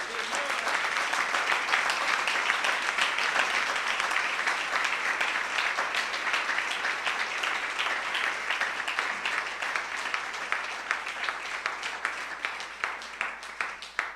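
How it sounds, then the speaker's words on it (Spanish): A congregation at a religious talk on the Eucharist gives sustained applause, a dense wash of many hands clapping evenly for about fourteen seconds with no voices. "Le damos un aplauso al Señor."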